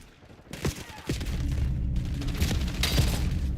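Rapid SMG fire from a Black Ops 7 multiplayer match, steady bursts of close, loud shots with booming thumps layered over continuous battle noise.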